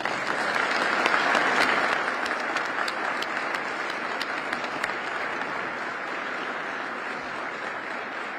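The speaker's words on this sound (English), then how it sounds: "I think Mark deserves a round of applause today as well" An audience at a state government appointment event gives a long, steady round of applause that swells early and then holds at an even level for several seconds.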